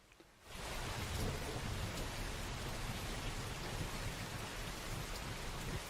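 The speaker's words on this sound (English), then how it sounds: "This is just some rain." Steady heavy rain fills the whole stretch as a dense, even wash of close patter, beginning abruptly after a brief quiet moment, with no voices over it.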